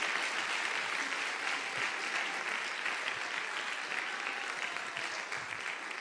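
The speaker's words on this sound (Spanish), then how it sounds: "¿Podemos aplaudirle de nuevo a ellos, por favor?" Sustained applause from an audience at a faith event fills the whole stretch, dense and steady at an even level, with no voices standing out.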